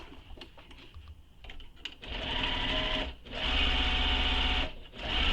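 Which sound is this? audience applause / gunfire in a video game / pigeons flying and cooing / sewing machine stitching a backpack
sewing machine stitching a backpack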